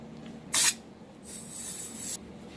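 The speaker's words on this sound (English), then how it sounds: "This spray foam like you use to insulate the cracks in your house, but it also works quite well." Insulating spray foam hisses from a pressurized can: one short sharp burst, then a longer steady spray lasting about a second, both close and loud against quiet surroundings.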